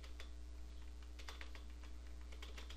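Faint, quick computer keyboard clicks tap out shortcut keystrokes during PHP coding, a few sharp taps scattered over a low steady hum.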